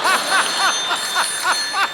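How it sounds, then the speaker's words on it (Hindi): A telephone ringing on a TV comedy show stage, a steady sequence of about eight quick, bright trilling rings evenly spaced, loud and close with little talk over it. "संतोष को फोन लगाया जाए प्लीज।"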